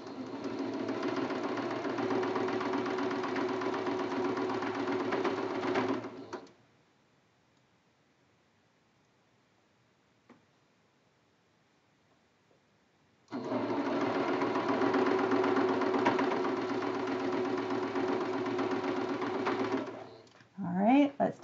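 A sewing machine stitches quilt block seams for a Churn Dash block, running in a long steady whir, stopping for several seconds of quiet, then starting again for another sustained run before a brief rustle.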